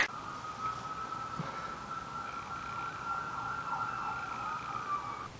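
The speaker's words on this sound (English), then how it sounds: "Indiana police are very siren happy." A police siren wails at a distance in Indiana, its tone rising and falling steadily above a low traffic rumble.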